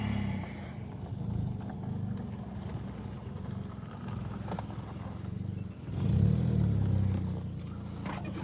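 A 2009 Seat Ibiza with a 1.6 petrol engine drives along, its low steady engine drone rising into a louder surge near the end, recorded from inside with no talk.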